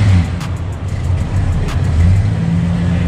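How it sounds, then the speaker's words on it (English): A six-cylinder car engine rumbles loudly and steadily at idle at a car meet, deep and throaty with a slight uneven lope, close by. "The old school six-cylinder sound. It's like a nice good rumble."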